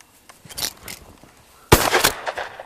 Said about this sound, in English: My brother here will shoot it.